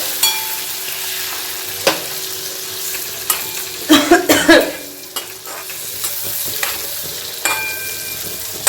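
Chopped tomatoes fry and sizzle in hot oil for a radish and pea dal, with a steady hiss broken by a burst of stirring and spatula scrapes near the middle and a few sharp clinks, no voices.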